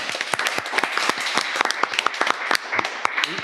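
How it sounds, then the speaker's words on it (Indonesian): Enthusiastic audience applause at a Valentine's Day stage show, dense rapid clapping with sharp individual hand claps standing out over a steady crowd roar. "tepuk tangan untuk semuanya."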